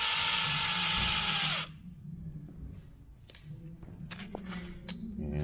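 A power drill whirs loudly at a steady pitch for about a second and a half as it tightens a bolt, then cuts off, leaving quiet shuffling and light clinks.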